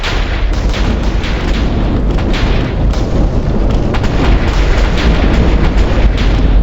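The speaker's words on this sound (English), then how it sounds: "You're gonna see the biggest explosion yet." A huge, loud video game explosion from the Rival Rebels mod roars continuously with deep rumbling and crackling debris, never letting up.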